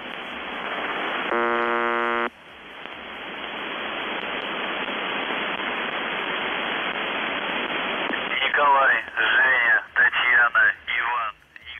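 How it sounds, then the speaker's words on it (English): The UVB-76 shortwave radio station, a Russian military transmitter, sounds one short, monotonous buzz tone amid steady radio static, followed later by warbling, voice-like transmission fragments over the hiss. "The radio station operates 24 hours a day with its signature short and monotonous buzz tone"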